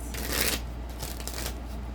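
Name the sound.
shuffling cards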